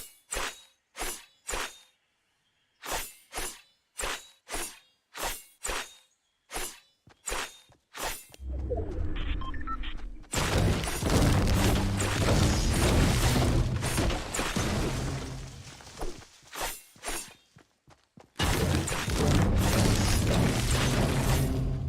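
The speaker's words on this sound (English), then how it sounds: "it sounds exactly like the Scythe" Repeated sharp swishing Excalibur pickaxe strikes in Fortnite land in a quick rhythm, then loud bursts of crunching, rumbling game effects and more strikes follow.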